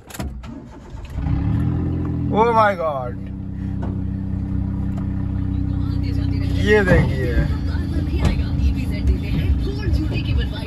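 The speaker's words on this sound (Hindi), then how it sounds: "इसकी गाड़ी की आवाज सुनाते हैं आपको" A supercar with an aftermarket exhaust cranks and fires up about a second in, then settles into a loud, steady, deep idle rumble close by, while people exclaim and talk over it.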